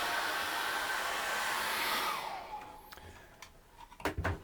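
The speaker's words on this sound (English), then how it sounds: "hairdryer." A hairdryer blows steadily and loud for about two seconds while drying an acrylic painting, then cuts off, leaving quiet handling noises and a few brief knocks.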